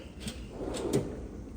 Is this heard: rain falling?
no